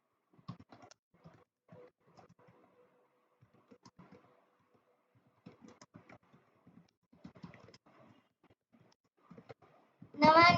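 Computer keyboard typing during a basic typing practice session, soft scattered key clicks in short bursts with pauses, fairly quiet and close, a louder burst of noise at the very end.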